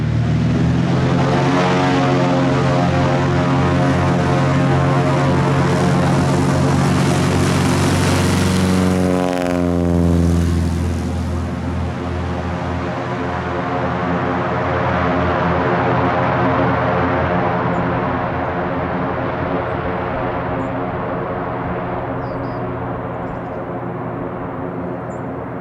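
A propeller airplane roars at full power as it takes off, its engine drone shifting in pitch as it passes, then fading into the distance.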